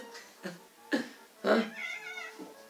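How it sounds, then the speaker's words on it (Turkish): A cat meows in a few short separate calls followed by a longer drawn-out one, fairly quiet and close, with no talk over it. "Tamam, bak yine miyavladı."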